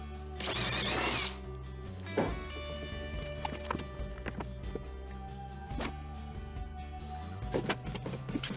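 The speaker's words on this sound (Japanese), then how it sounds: "端っこはこんな感じで下穴を開けておくと木が割れにくくなります。" A power drill bores pilot holes into the end of a piece of wood while renovating an old 51-year-old two-storey Japanese house, giving a short loud whine followed by quieter knocks and handling clatter.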